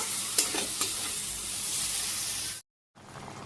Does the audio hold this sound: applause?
no